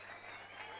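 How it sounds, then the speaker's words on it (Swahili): An audience applauds a newly introduced leader at a public gathering in Gatundu South. The clapping comes as a brief, faint, steady wash of noise. "Tumpigie makofi Kaira."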